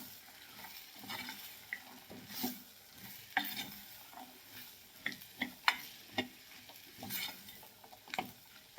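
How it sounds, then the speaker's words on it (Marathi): Fresh shelled peas are stirred into frying masala for a pea and potato curry, with scraping spoon strokes and soft sizzling in irregular bursts, close and fairly quiet, with no talking. "ताजा वाटाणा मी सोलून घेतलेला आहे, तो त्यामध्ये ऍड करायचा आहे बघा. व्यवस्थित मिक्स करून घ्यायचं आहे."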